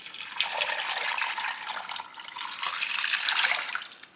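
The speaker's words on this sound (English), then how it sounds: "I'm going to go ahead and put in some water, and this is about 5 cups of water." About five cups of water pour into a pot of butterbeans in a steady, close splashing rush that swells and dips slightly before trailing off, with no voices.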